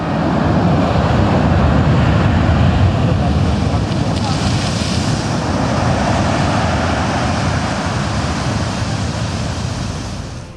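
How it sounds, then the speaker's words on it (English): Waves crash on the beach shore in Nice, a loud continuous rush of surf with wind buffeting the microphone throughout. "enjoy the waves crashing on the shore"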